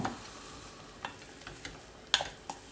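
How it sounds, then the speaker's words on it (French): Mushrooms seasoned with pepper cook gently in a pan, giving a soft steady sizzle with a few scattered clinks and light knocks of a utensil. "je vais laisser mes champignons cuire doucement"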